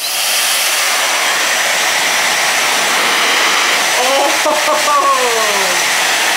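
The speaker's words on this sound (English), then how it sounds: "So now we are going to go ahead and test out the blow dryer." A Tymo Airhype Lite blow dryer running steadily, a loud close airy whine and hiss throughout, with a person briefly speaking near the end.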